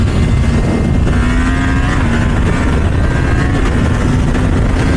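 Yamaha MT motorcycle engine pulling under open throttle on the road, a loud steady drone with a rising tonal whine, close and continuous with wind roar, no talking.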